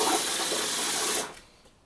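Water from a tap runs steadily while someone rinses off after shaving, a close continuous hiss that cuts off abruptly after about a second and a quarter, leaving quiet.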